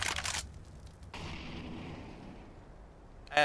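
A Molotov fire grenade in Counter-Strike on the Mirage map, giving a loud burst of crackling, whooshing flame that settles into a steady roaring burn, with a sharp new hit at the very end.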